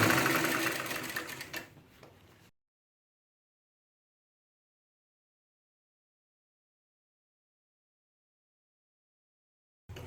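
A sewing machine stitching a Punjabi pajama runs in a fast, steady whir for about two and a half seconds, tapers off and stops, then silence follows until a brief restart at the very end.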